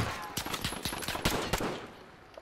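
Rapid gunfire in Call of Duty Modern Warfare during a GunFight tournament match, dense bursts of automatic shots and sharp cracks repeating across the whole stretch, loud and close.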